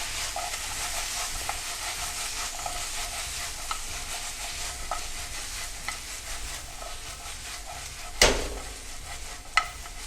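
Paneer chilli tossed in a hot pan with ketchup sauce, sizzling steadily with small rhythmic scrapes, then one loud clatter and a second sharp clink near the end, close up with no talk.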